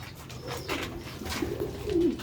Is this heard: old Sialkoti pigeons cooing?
yes